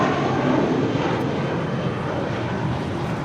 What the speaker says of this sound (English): JetBlue departing to Salt Lake City, 1732.